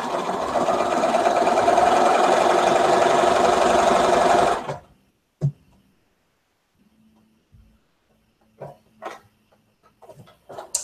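A sewing machine runs steadily for about four and a half seconds while chain-feeding quilt pieces for a scrappy mystery quilt, then stops abruptly, leaving near silence with a few faint knocks and clicks.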